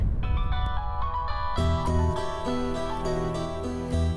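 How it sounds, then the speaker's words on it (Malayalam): A phone ringtone plays a bright electronic melody of repeated tones, steady and moderately loud, with no talking. "ഒന്ന് നോക്കടി, ഫോൺ അടിക്കുന്നുണ്ടല്ലോ."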